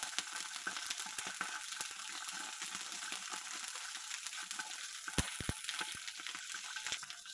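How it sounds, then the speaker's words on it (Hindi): Ginger garlic paste fries in a pan with a faint, steady hiss, broken by a few sharp crackles and pops near the end, with no talking. "थोड़ी सी जिंजर गार्लिक पेस्ट फ्राई करनी है हमको"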